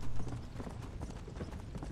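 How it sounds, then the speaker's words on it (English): Hooves of a fire horse in the video game Red Dead Redemption: Undead Nightmare gallop in a fast, steady clip-clop rhythm, close and continuous over a dense rumbling background. "I am riding a horse made of fire."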